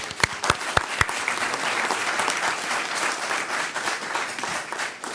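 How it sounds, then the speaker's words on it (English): Applause at a city council meeting honouring the Field Employee of the Year: steady, fairly loud clapping from the room that carries on for the full stretch with a few sharp claps up front, no talking over it. "let's give him a round of applause"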